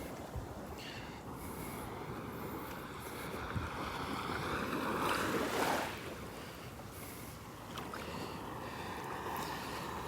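Steady ocean surf washing onto the sand at Delnor-Wiggins beach, a continuous broadband wash with a slightly louder swell of breaking water midway, heard alone without talk.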